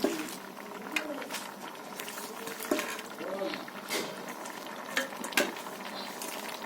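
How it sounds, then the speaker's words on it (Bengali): Chopped spinach dropped into a pan of cooking chana dal and mixed winter vegetables, a steady sizzle and bubbling with stirring scrapes and occasional clinks of a utensil against the pot, while a voice talks over it. "এর মধ্যে কেটে রাখা পালং শাকটা আমি দিয়ে দিচ্ছি"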